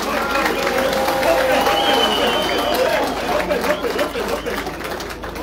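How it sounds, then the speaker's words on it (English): A crowd at a UPND Headquarters gathering claps for the president after a speech. The applause stays loud and dense, thinning slightly toward the end, and a voice is faintly audible through it. "shall we give a round of applause to the president?"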